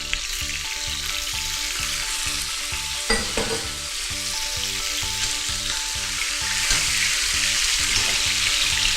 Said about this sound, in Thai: ในการเซียเนื้อสัตว์นะครับผมก็จะใส่เจ้าก้านโรสแมรี่นะครับลงไปด้วย